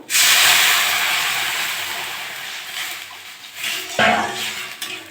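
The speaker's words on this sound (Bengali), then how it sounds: "ডালটা আমার ভাজা হয়ে গেছে, আমি এবার জল দিয়ে দেবো।" Water poured into fried lentils in a hot pan makes a loud, steady rushing hiss of steam that slowly fades, followed by a few metal clanks of a utensil against the pan, close up.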